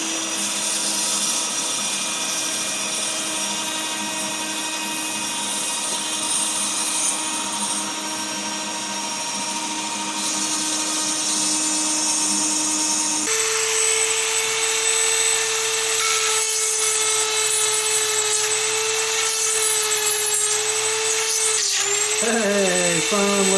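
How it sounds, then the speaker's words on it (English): A power drill whines steadily at close range, its motor pitch shifting partway through as it bites in, then slowing near the end. "And trying to drill this in at the same time."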